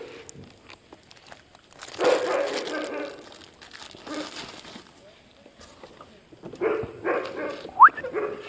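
Stray dogs on a street in Kochi bark and yip in scattered bursts, some close and loud, others farther off, with footsteps and someone talking between them.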